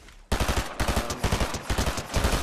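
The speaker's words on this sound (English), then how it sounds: "he just sniped me in the head" Fast, loud automatic gunshots in the video game Fortnite, a steady rattling burst of evenly spaced shots starting abruptly and continuing to the end.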